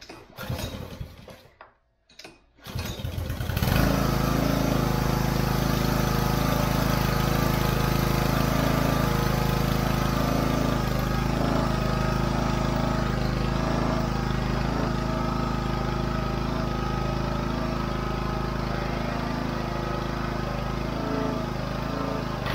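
A Troy-Bilt log splitter engine starts after a brief sputter and then runs steadily and loudly, driving the hydraulics with a constant droning hum, close and alone.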